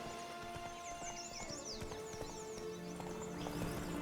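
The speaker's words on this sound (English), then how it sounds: "Bindiğimiz her ata biz Roach deriz" Horse hooves clip-clop steadily in The Witcher 3, moderately close and continuous over game music and ambient sound, with a faint whinny.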